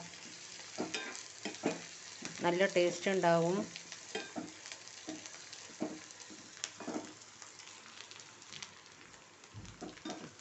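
Onion, green chilies, curry leaves, dried red chilies, chana dal and urad dal fry in hot oil in a pan, giving a steady close sizzle with stirring scrapes, while someone talks over it and a brief louder burst rises early on.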